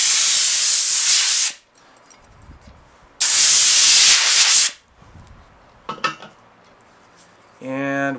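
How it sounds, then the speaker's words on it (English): Compressed air blasts in two loud, broad hissing bursts about a second and a half each, cleaning filings from a pole saw blade during sharpening, with quiet metallic handling clinks between and after them. "So we're going to take our compressed air"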